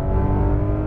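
A Porsche GT3 RS revving hard on a Las Vegas race track, its engine a loud, close, sustained harmonic roar in one brief continuous burst, with no talk.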